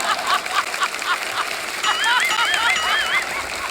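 A performer on a comedy stage show imitates an anar fountain firecracker with a hissing, rushing voice that breaks into rising and falling whistly squeals partway through.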